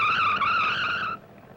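Tires squeal in a long, loud, steady wail on a test track as a 1950s hot rod skids, the shriek holding for about a second before cutting off into faint road noise.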